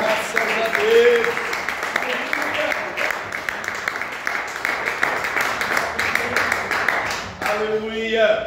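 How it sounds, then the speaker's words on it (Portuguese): A church congregation claps joyfully at a workers' consecration congress, a dense, steady patter of many hands that carries on for several seconds, with voices and some tonal sound mixed in. "receber o nosso irmão pastor Lucas, exaltando a Deus, com as palmas bem alegres"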